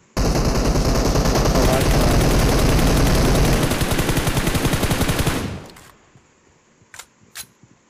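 Rapid automatic gunfire in PUBG Mobile rattles in one dense, loud burst for about five seconds, then stops abruptly, followed by a couple of faint clicks.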